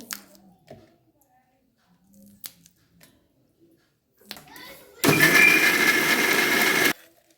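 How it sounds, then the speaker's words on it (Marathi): A kitchen mixer grinder whirs loudly for about two seconds while pulverising green chillies, its harsh motor roar starting abruptly and cutting off, after a stretch of quiet clicks and soft handling sounds. "मिरची पूर्ण असं मिक्सरला लावून घेतली आहे मी"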